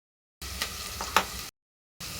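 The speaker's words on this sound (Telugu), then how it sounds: "ఆవాలు, ఇగో ఎల్లిపాయలు అన్నీ ఫ్రై కావాలేమో. ఇవన్నీ ఫ్రై కావాలి. కానీ 2 పచ్చిమిరపకాయలు, ఉల్లిగడ్డ ఒకటేసారి వేసుకున్నాం." Mustard seeds, garlic, green chilies and onion fry in a pan, a close steady sizzle with soft stirring sounds and one brief sharper crackle, cut by short gaps of silence.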